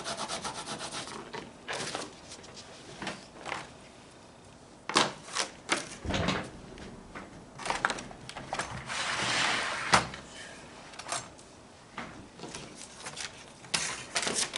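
Bone folder burnishing paper through a protective sheet while making a Japanese-style box, with close, dry rubbing strokes in irregular bursts and occasional light taps.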